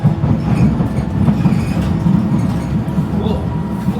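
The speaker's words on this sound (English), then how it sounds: "Look, there's another train coming." A Docklands Light Railway train in London rolls past a platform with a steady, loud rumbling clatter of wheels on track, close by and sustained throughout, with no clear talk over it.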